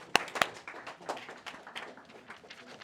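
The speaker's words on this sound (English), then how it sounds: "round of applause" A small classroom gives a brief round of applause after a binary numbers lesson, opening with two sharp claps before a light, scattered patter of hands that thins out.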